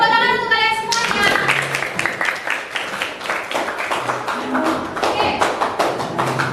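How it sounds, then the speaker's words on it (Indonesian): A group of people claps hands together in a classroom-style setting during a school teaching assessment, a dense, sustained patter of claps running throughout after an opening stretch of sung or chanted voice. "Tepuk tangan untuk kalian semuanya."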